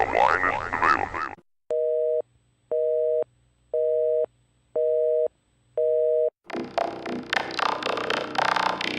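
A telephone line tone sounds while a call waits to connect, five evenly spaced steady beeps with short gaps between them, clear and alone, framed by bursts of louder voice and noise before and after.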